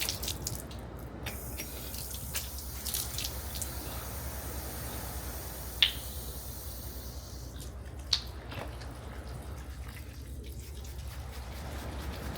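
Cold water runs steadily from an outdoor tap while someone washes in a Japanese town, a soft continuous splash with a couple of sharper knocks partway through.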